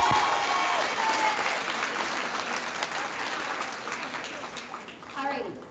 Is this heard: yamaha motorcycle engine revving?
no